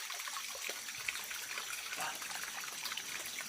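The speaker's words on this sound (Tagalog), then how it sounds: "sagana ng tubig dito sa bundok" A mountain stream with plentiful water flows steadily, a faint, continuous bright trickling and rushing with no talk over it.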